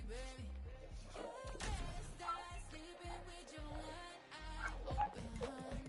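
A dog barks and yips repeatedly nearby, sharp excited barks mixed with whiny whimpers in an uneven rhythm, with game sounds faintly underneath.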